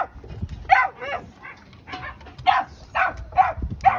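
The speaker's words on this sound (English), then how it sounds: "I like this little pup." A small Fubu dog barks and yips in short bursts, several sharp calls spaced irregularly, fairly close with some low background rumble in a kennel.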